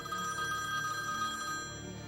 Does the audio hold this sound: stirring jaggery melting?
no